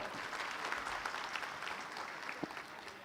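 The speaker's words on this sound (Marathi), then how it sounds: "प्रचंड टाळ्या स्वागत करा" Many hands clap in sustained, even applause from a crowd at a political campaign rally in Satana, India, heard somewhat distant and faint.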